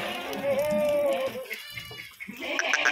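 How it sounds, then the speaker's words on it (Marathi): Kathiyawadi goats from a herd of fifty pregnant does, one giving a drawn-out, wavering bleat near at hand with rustling farm noise around it and more faint calls toward the end. "या सर्व आता गाभणी 50 शेळ्या"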